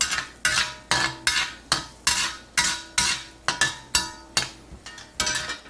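Carrots and aromatics stir-fried in a pan for chicken stir fry, with a metal utensil scraping and tapping the pan in a steady rhythm of about two strokes per second over a light sizzle, close up.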